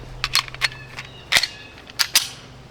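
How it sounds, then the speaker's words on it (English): Sharp, separate handgun shots fired one-handed with the off hand, about eight reports in uneven pairs and singles, crisp and fairly close against a quiet outdoor background. "we're going to simply switch hands, and we're going to go with the offhand,"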